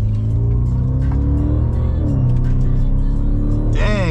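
A car accelerating hard with traction control cutting in, its loud engine note rising and falling unevenly as power is trimmed, then revving higher at the end.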